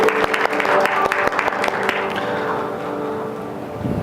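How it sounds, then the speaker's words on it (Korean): A church congregation at a Korean worship service applauds, a burst of loud, dense clapping over the first two seconds that fades into a lingering sustained musical tone. "이곳에 불러주신 하나님께 영광의 박수 올려드리겠습니다."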